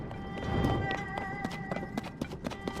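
Horse hooves galloping in The Legend of Zelda: Tears of the Kingdom, a quick run of clip-clop beats over game ambience and a faint musical drone, moderately loud and steady.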